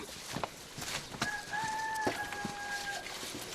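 Chickens cluck and a rooster crows with a drawn-out, wavering call amid a busy farmyard with general background noise, and no talk is heard.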